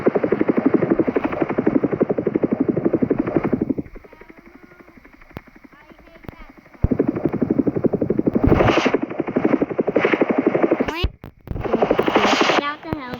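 A video game helicopter drones with a loud, steady rotor buzz, drops away to quieter sounds for a few seconds, then returns with sharp game effects, as young players talk over it.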